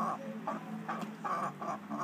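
Long-tailed sea ducks call in a rhythmic series of about six nasal squawks, fairly close and clear over faint background noise.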